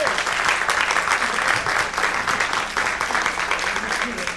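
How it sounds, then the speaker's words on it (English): An audience at a town candidates' question-and-answer event in Plymouth gives a sustained round of dense applause, steady and fairly loud throughout. "I think we should give all these people a nice round of applause."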